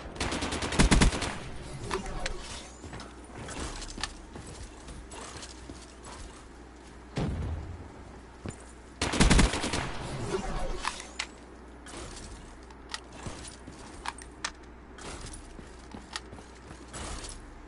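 Rapid bursts of video game gunfire erupt in loud clusters near the start and again around the middle, with scattered quieter shots and clicks between them; no one speaks.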